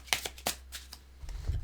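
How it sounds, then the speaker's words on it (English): A deck of tarot cards is shuffled nearby in a few quick riffling bursts, followed by a low thump as the cards settle. "Just wanted to shuffle those in."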